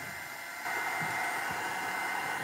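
Heat tool drying a layer of gesso on a mixed media surface, giving a steady close-up blowing hum that grows slightly louder partway through and continues without a break.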